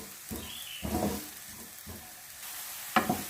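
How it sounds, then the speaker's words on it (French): Onions sautéing in a pan for a tartiflette, with soft intermittent sizzling and a few louder stirring scrapes and clatters. "on va faire revenir un petit peu les oignons"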